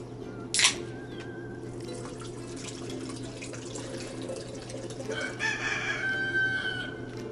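Against a steady background hum at a windy driveway campsite, a brief clatter sounds early, then a rooster crows once, moderately distant, near the end.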